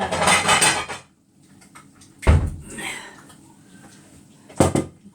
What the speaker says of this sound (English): just get a mixing bowl and we'll start